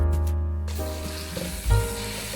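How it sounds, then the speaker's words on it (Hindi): Tomatoes and green chillies fry in a pan with garlic and ginger powder for a potato and egg curry, giving a steady close sizzle with a brief louder stir partway through. No one speaks. "अब मैं इसको भून लूँगी थोड़ा सा।"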